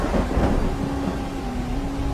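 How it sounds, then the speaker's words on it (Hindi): A thunderstorm with heavy rain: a low rolling rumble of thunder over a dense, steady wash of rain, heard up close and fairly loud. "एक बार जंगल में तेज बारिश और तूफान आया।"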